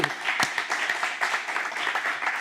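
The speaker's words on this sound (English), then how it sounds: "let's give a hand to the moms" Church audience clapping for the mothers on Mother's Day, a steady, even patter of many hands at moderate volume, with a sharper clap near the start and no talk over it.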